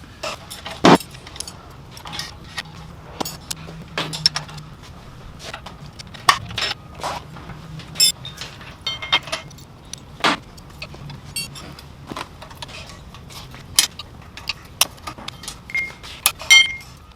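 Fork bolts on a Kawasaki KZ400 motorcycle loosened by hand, heard as sparse, close metallic clicks, clinks and tool taps spaced irregularly over quiet garage ambience.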